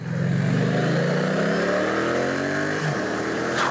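A Triumph Street Cup motorcycle accelerates hard at full throttle, its engine note climbing steadily through a gear, dropping briefly at a shift and rising again, loud and close with wind noise at the end.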